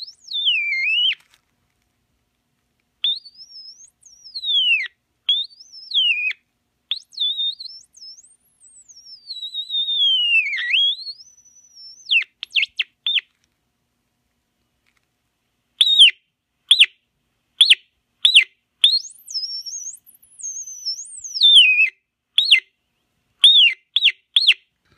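A 1959 Bulova transistor radio squeals with a theremin-like whistle as fingers come near its oscillator with a test capacitor fitted, sliding tones in bursts, then quick choppy chirps and warbles, loud and alone.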